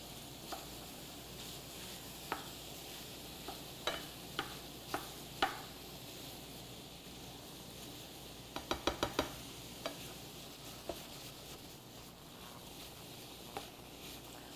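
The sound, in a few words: breakfast sausage browning in a pan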